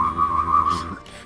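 A person's voice imitates a UFO abduction noise with a wavering, whistle-like tone that holds steady and then cuts off abruptly near the end, heard alone and close.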